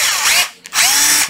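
A 12V (10.8V) Bosch cordless drill with two speed settings whirs in two loud, close bursts, separated by a short pause with a brief click between them.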